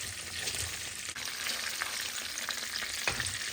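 Onions and sardines fry together in a pan, giving a continuous soft sizzle with scattered crackles and small stirring knocks, moderately quiet and close.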